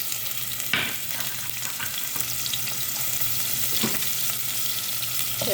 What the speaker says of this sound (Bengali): তো আমার তেলটা গরম হয়ে গেছে, এখন দিয়ে দেবো পেঁয়াজ।